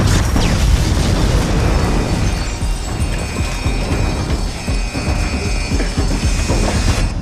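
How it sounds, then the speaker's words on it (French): A generator blown up by an assault team's demolition charge, a loud boom with rumbling debris and crackling bursts that roll on at near constant strength throughout, with no voices over it. "paré à faire sauter le générateur"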